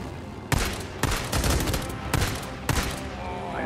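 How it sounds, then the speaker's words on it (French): Machine gun fire in the video game Days Gone, four loud rapid bursts one after another with brief gaps between them, close and dominant. "Une petite mitrailleuse."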